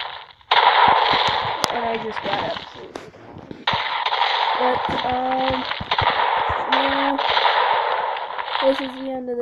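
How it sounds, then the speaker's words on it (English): Video game gunfire using explosive rounds: rapid automatic bursts crackle loudly in several stretches, with brief gaps between volleys and short whining tones layered over the shots. "Might as well just use this explosive round then"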